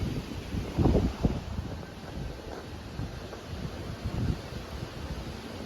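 Gusty wind buffets the microphone outdoors, with low rumbling bursts and a steady rush of noise.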